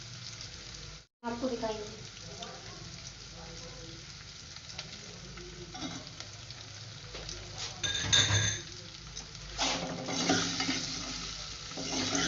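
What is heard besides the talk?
green chilies frying and sizzling in a pan with arvi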